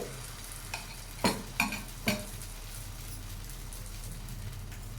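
Wheat semolina dosa batter hisses steadily on a hot pan, a soft continuous fizz broken by a few sharp scraping clicks early on, close and fairly faint with no voices.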